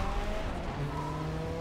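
A car engine roars steadily in the Blur racing video game, a continuous loud drone with tyre noise and no talk over it.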